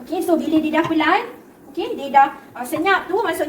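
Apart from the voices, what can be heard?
No everyday noises stand out.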